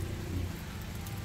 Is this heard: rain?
yes